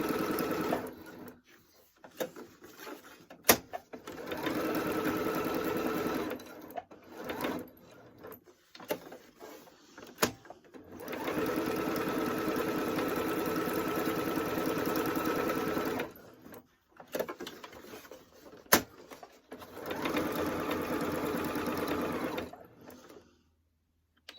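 A home sewing machine runs a stretch stitch in several sustained bursts of steady mechanical whirring, separated by short pauses and a few sharp clicks, close by with no talk.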